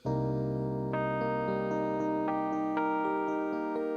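A mellow Fender Rhodes electric piano plays sustained chords with bell-like attacks, new notes entering every half second or so over a warm ringing bass, no voices.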